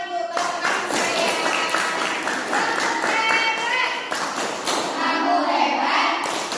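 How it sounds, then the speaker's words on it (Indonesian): Students in an Indonesian classroom clap their hands for classmates after a group presentation, a scattered, uneven patter of claps running throughout, mixed with children's voices and small taps and thumps. "Ya, berikan tepuk tangan untuk teman-teman saya."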